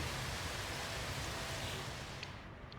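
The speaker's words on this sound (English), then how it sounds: "There it is again, just constant rain." Constant, even caustic rain hiss in the video game No Man's Sky fills the clip at a low, steady level, with no voices and only a faint drop-off near the end.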